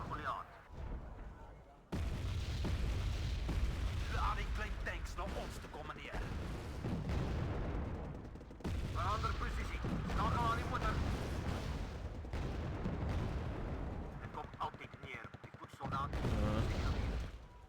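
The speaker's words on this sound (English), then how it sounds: "Oh, that's quite some arty." Artillery fire in a war strategy video game, a steady run of booming shell impacts and rumbling blasts at moderate volume, with someone talking over the barrage.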